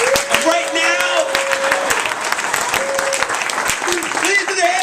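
Applause from a comedy benefit audience at a bakery cafe, steady dense clapping throughout with whoops and cheers, with a host's voice and tonal bits riding over it.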